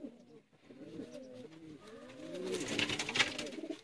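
Pigeons coo close by in a Sialkot pigeon loft, soft rolling throaty calls overlapping in a quiet stretch, joined by a faint higher rustle near the end.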